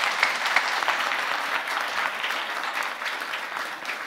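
A comedy club audience claps hard for arriving performers, a dense, steady round of applause with scattered sharper claps, fairly close and continuous throughout.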